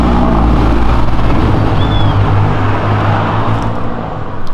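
Lamborghini Aventador driving along Avenida Europa, a loud, steady low engine rumble with constant road noise and no break across the whole stretch.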